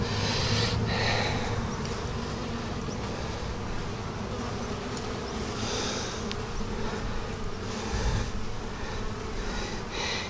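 Honeybees buzz steadily around an open hive during a spring inspection, a dense, continuous hum close by with swells of wingbeats rising and falling throughout.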